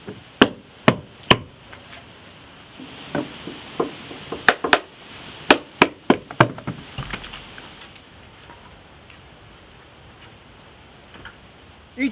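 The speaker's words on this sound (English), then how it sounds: "then I'll use the claw of the hammer" Irregular sharp taps and knocks from a hammer claw and cat's paw pulling nails out of barn wood, clustered early on, then trailing off into quiet room noise.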